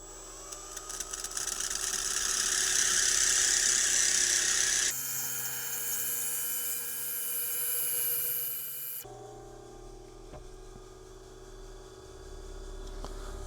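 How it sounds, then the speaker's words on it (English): An old, beat-up Milwaukee drill spins a stone intarsia piece against a lap, a steady whirring and grinding drone that shifts in pitch across several takes, with no talking. "the way we're going to do that is with my old beat up Milwaukee drill"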